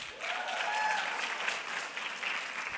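Audience at a convocation ceremony claps steadily, a dense, even wash of applause from a large crowd that holds at the same level throughout with no voices standing out.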